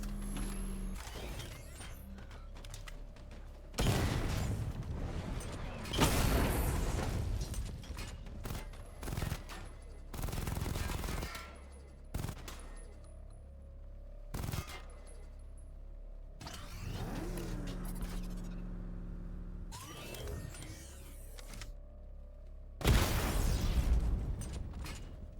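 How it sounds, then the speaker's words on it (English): Missile barrage in Batman: Arkham Knight, fired from the Batmobile: repeated loud bursts of launches and blasts in separate clusters, with mechanical whirring and engine hum between them. "Charge the missile barrage to level 2 to destroy up to 4 targets at once."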